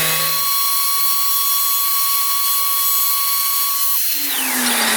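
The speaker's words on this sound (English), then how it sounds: "we'll see how far we can get with the sanding." A power sander works on a laser-engraved piece, giving a loud, continuous high-pitched whine close up that drops in pitch near the end as the tool slows or changes load.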